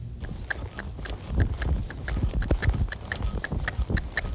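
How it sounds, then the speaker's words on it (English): A gray horse doing reining stops works across loose ground, giving a steady run of hoofbeats with some scuffing and sliding. The hooves sound fairly close and carry on with no one talking. "Took very little pressure then to get this horse to kind of slide and get up under itself."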